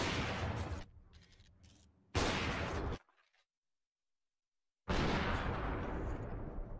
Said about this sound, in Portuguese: Belo tiro do Cello aqui